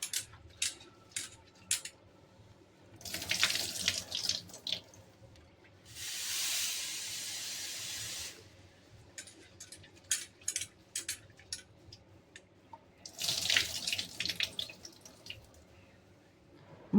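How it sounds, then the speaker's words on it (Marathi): Chivdi greens are washed in water in bursts: faint drips and rustles alternate with several louder splashing and running-water stretches, one a steady flow of about two seconds, all close and fairly quiet. "मस्तपैकी आता आपण 2-3 पाण्याने छान स्वच्छ भाजी ही धुवून घेतली."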